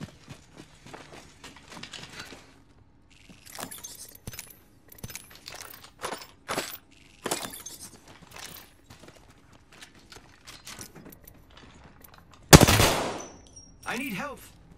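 Gunfire from the battle royale video game Apex Legends: scattered sharp shots and short bursts at an irregular pace, ending in one loud, dense blast and a fainter final volley.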